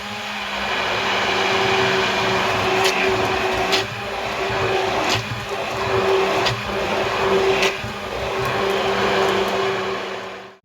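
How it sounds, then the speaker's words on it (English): Sugar whisked with an electric mixer until light and fluffy, a steady loud motor whine running throughout with faint periodic ticks from the beaters against the bowl, no talking. "we just need to whisk it until it becomes light and fluffy"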